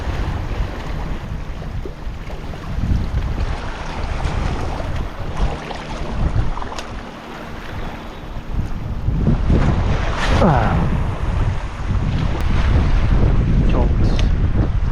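Wind gusts across open shallow water off Palawan during a fishing trip, rumbling against the microphone with waves and surf, swelling and easing throughout.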